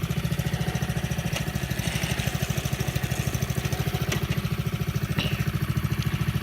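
An all-wheel drive car idles on a cold start, its engine putting out a steady, rapid low-pitched chug with an even mechanical rhythm and a faint clatter on top, close and continuous.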